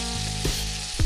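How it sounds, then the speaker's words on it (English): Freshly made pasta hits olive oil in a hot frying pan and sizzles loudly and steadily, with a louder spit of crackle near the end and no speech. "Get a hot frying pan, add a little bit of olive oil to it, throw your pasta in there."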